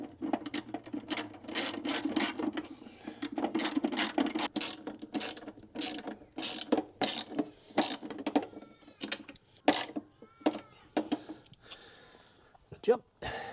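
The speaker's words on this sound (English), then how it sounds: "I'll now put this trim tab back on." A trim tab is fastened back onto a boat's stern, with rapid ratcheting clicks in repeated short bursts close by, light mechanical rattles between them.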